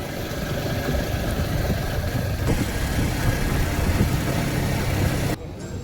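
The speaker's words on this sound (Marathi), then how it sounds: "आपण आता गाडी बाहेर चाललोय रातचं फिरायला" A car engine idling at night before setting out for a drive, a steady close rumble that holds level, then drops slightly near the end.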